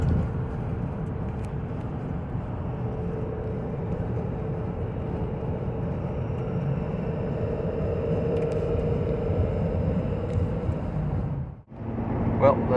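A 2012 Ford F450 pickup with a 6.7 liter Powerstroke turbo diesel runs with a steady, low rumbling drone that is heard from inside the cab. It dips briefly near the end.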